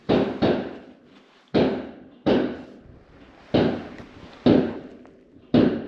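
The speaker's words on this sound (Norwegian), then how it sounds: "Da er det fyrverkeri rett der, og han ligger bare og chiller." Fireworks explode close by in a rapid string of about eight loud, sharp booms, each trailing off with a short rumble, no voices.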